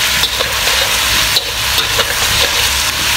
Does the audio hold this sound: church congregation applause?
no